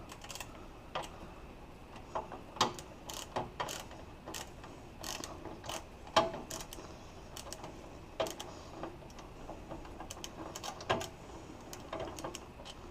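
Screws are being backed out during a PC system build, with sparse small ratcheting clicks and light metallic ticks from a screwdriver at close range, irregular and quiet, with no talk.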